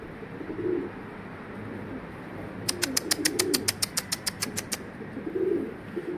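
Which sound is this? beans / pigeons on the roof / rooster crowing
pigeons on the roof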